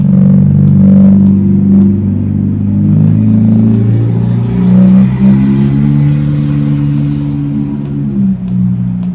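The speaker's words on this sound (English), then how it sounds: "Why are you deleting your muffler on a Honda?" A Honda with its muffler deleted revs hard and close by, a loud raspy engine drone rising and falling through repeated throttle blips, with no talking.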